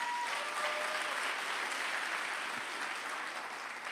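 Steady applause from a church service crowd, dense clapping that holds evenly for several seconds with no voices standing out.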